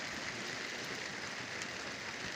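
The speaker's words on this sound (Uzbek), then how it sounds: "Mana osmondan mana baraka yomg'ir yog'ilyapti." Rain falling outdoors at a site with pressed building blocks, a soft, even hiss of drops with no distinct rhythm, faint and continuous throughout.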